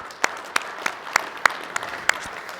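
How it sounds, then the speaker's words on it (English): Sparse, separate claps from a small audience at an agricultural AGM panel, a handful of sharp hand claps spaced irregularly, brief and fairly close. "So big round of applause for the pork producers."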